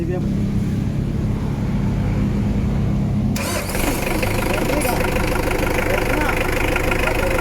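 A car with a hard-starting problem cranks and its engine catches, running with a steady loud drone that shifts abruptly partway through, continuous and close.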